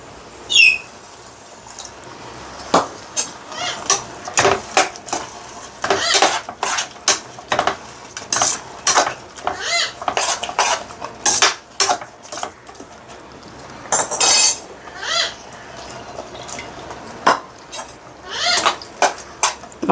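Gongura curry being stirred in a pot after a little water is added, with repeated sharp clinks and scrapes of a utensil against the pot in an irregular rhythm, close and fairly loud, with birds or animals calling faintly in the background.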